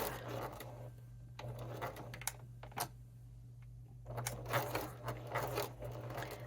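A sewing machine stitching velvet, going forward and back, runs in several short motor bursts separated by quiet pauses, fairly faint and close.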